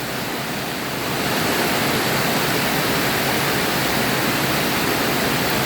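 Continuous rushing of flowing rainwater, a dense steady roar that swells slightly after the first second and stays loud throughout.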